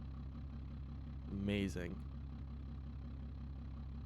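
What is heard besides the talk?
car engine idling in BeamNG Drive video game, lawnmower-like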